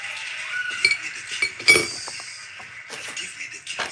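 A bunch of keys clinks and jingles in short metallic bursts close by, over a faint background hum, with no speech.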